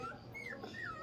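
A mother dog with puppies whimpers softly, a couple of thin rising-and-falling whines heard close against faint background noise, with no talk.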